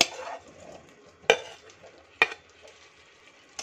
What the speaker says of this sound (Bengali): এবার এর মধ্যে দিয়ে দেব ভেজে রাখা আলুগুলো। আলুগুলো ছেড়ে দিচ্ছি।